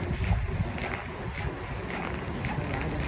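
Strong wind outdoors during heavy snowfall, a dense, steady roar of gusts buffeting the microphone, loud and close for a few seconds.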